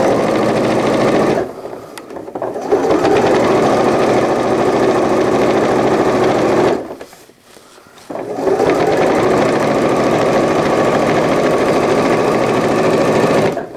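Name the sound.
sewing machine stitching an AIO cloth diaper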